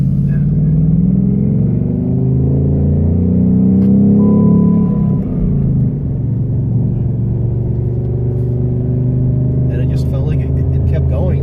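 A 2019 Ford Mustang Bullitt V8 cruises in second gear at low revs: a deep, steady engine rumble heard from inside the car, rising slightly and then settling, with people talking over it.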